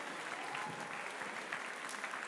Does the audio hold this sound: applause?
yes